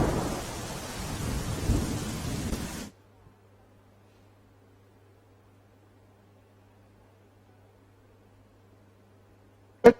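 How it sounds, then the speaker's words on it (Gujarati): A heavy downpour in Kheda district, Gujarat, roars for a few seconds and then cuts off to near silence, with one sharp loud thunder crack right at the end. "ઠાસરા ગળતેશ્વર તાલુકામાં વરસાદ યથાવત જોવા મળી રહ્યો છે"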